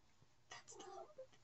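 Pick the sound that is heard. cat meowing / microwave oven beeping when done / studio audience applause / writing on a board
cat meowing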